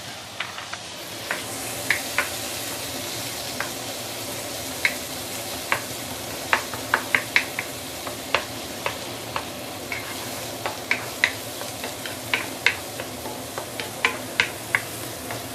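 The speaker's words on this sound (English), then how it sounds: "Put in the garlic and shallot." Garlic and shallot fry in a pan for a maggie mee goreng, a steady sizzle broken by frequent sharp scrapes and taps of a spatula stirring, close and continuous with no talking.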